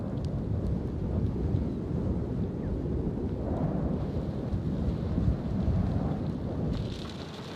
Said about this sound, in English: In the midst of a violent thunderstorm